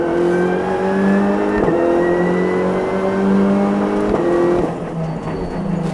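A Renault Clio Cup race car being driven hard on a circuit, its engine giving a loud, close, steady drone with a few brief dips that sound like gear changes.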